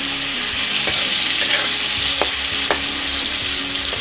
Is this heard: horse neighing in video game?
no